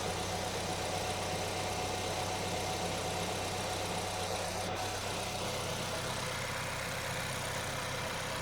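A 2024 VW GTI, rebuilt after a wreck with a newly installed transmission, runs in first gear, giving a steady, loud engine drone that holds constant from start to finish with no talking.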